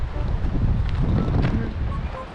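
Strong wind buffets the microphone at a seaside observatory on the Pohang coast, a loud, continuous low rumble with gusty swells throughout.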